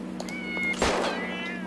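A cat in the video game GTA 5 lets out a single clear meow over a constant low game hum.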